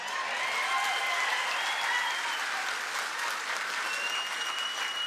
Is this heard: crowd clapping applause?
yes